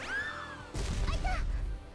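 Hammer strike in the video game Mugen Souls Z, a sharp crashing impact with a rumbling burst after a ringing synthetic tone, close and loud under the game's sound.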